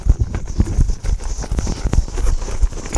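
Hoofbeats of a cutting horse stopping and turning with a cow, dense thudding clops scrambling close by and fairly loud, with no one speaking.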